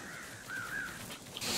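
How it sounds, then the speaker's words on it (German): Raven cawing in the video game Warhammer Vermintide 2, one drawn-out hoarse call that wavers in pitch, faint and somewhat distant, followed by a brief burst of noise at the end. "der Rabe ist es"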